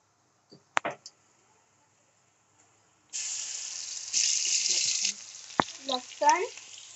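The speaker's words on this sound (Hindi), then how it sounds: "सबसे पहले हम जीरा डालेंगे अपने तेल में।" Cumin seeds hit hot oil at about three seconds and break into a bright, steady sizzle that swells halfway through. A few light clicks come before it, and some clatter and scraping sounds from the pan come near the end.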